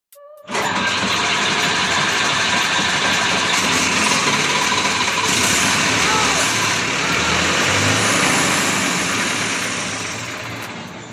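A jeep's diesel engine, just fitted with a repaired injection pump, cranks and catches, then roars loud and steady at close range before tapering off as it stalls.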